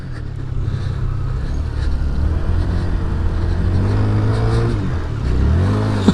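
Honda Grom mini bike engine revving hard while drifting in snow, a steady loud buzzing drone with rising and falling pitch sweeps toward the end, close up and with no talk.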